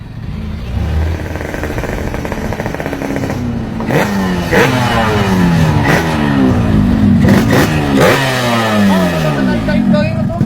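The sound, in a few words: motorcycle revving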